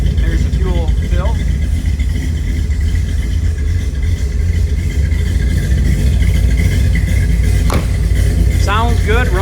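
A 1940 Chevrolet Sedan Delivery with a small-block 350 V8 idles loud and close in a steady low rumble, and a person talks over the engine noise.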